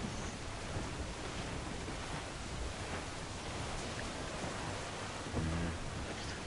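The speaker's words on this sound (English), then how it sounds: "And then it started raining." Steady hiss of heavy rain in the Assassin's Creed 4 Black Flag video game, with a low rumble of thunder rolling in near the end.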